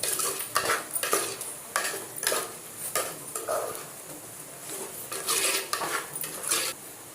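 Chicken being stirred and mixed in a pan for a chicken gravy, with repeated close scraping and clinking strokes of a utensil against the metal over a faint sizzle, no voices present.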